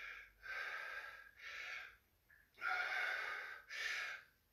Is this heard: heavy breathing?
yes